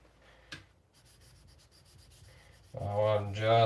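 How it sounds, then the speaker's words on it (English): A 52100 steel blade is rubbed on an Atoma 400 sharpening stone, giving a soft, faint scraping of repeated strokes, followed at the end by a voice talking. "Now I'm just using the stone to basically get out some deep scratches"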